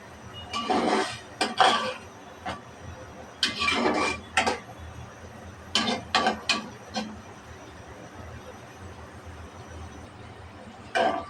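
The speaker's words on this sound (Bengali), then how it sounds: "দিয়ে দেবো কদু শাকের ডাটা ডাটাটা একটু পাঁচ মিনিট কষিয়ে নেব" Pumpkin greens stems being sautéed with small fish in a pan, several bursts of spatula scraping and clattering against the metal pan over a faint low sizzle, close and intermittent.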